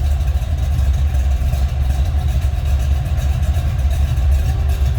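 A 1972 Chevrolet Chevelle's cammed 350 V8 idles steadily with a deep, lumpy low rumble and slight uneven pulsing, close and loud, with no talking.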